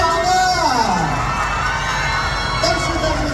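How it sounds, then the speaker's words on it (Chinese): A crowd of fans at a China-Thailand friendship culture exchange event shouts and cheers loudly, with high excited screams rising and falling throughout. "鼓掌啊！"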